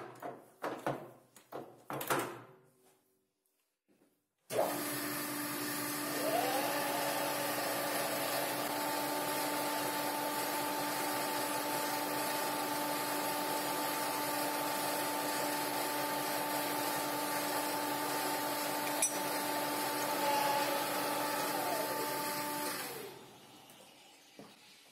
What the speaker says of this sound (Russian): До этого уступа я теперь нарежу резьбу 16, шаг полтора.